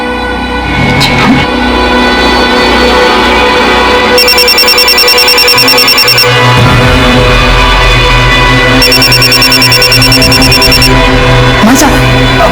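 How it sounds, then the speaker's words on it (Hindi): A mobile phone rings in two bursts of a repeating electronic ringtone, loud and close, with people talking around it. "भाभी साहब का फोन बज रहा है।"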